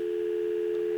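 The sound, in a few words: telephone outside line dial tone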